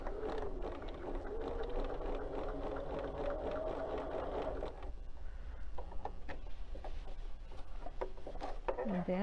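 A sewing machine stitches slowly through the thick seam of a hooded towel, a steady mechanical whirr with rapid needle ticks that changes pace partway through, close and mid-level with no talking.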